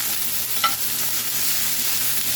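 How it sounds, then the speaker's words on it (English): A spatula stirs and scrapes a steak pan seasoned with salt and pepper under a steady, loud sizzle, with one brief scrape standing out. "Now, stir it around"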